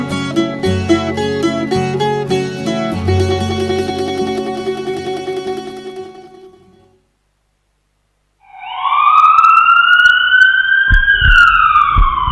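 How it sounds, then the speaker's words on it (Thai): Loud music plays, then falls silent, and an emergency vehicle siren rises after a short pause. The siren wails in strong, sweeping tones that climb and bend, close and dominant, with no talking. "เมื่อได้ยินเสียงสัญญาณไซเรนแล้วพบรถฉุกเฉินกำลังปฏิบัติหน้าที่"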